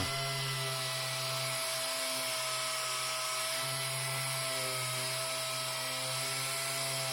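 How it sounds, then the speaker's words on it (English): A power sander whines steadily and loudly as it strips the remaining paint from a Triumph TR7 car body, a continuous high-pitched drone with no pauses. "it's time to get the body sanded and finished, ready for primer."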